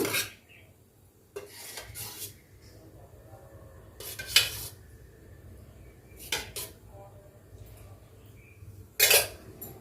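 Chicken biryani marinade with curd, coriander and mint is mixed in a bowl, giving soft wet squelching and scraping with a few sharp utensil clinks against the dish, close up and intermittent, with no talking.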